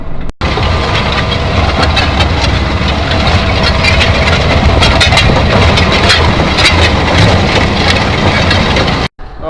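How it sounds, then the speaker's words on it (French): A Massey Ferguson 7616 tractor engine runs steadily at about 1250 rpm, a loud, continuous diesel drone with constant rumble and vibration, close to the microphone, with no talking. "C'est le moteur qui va se réguler en fonction de l'effort qu'il a à faire."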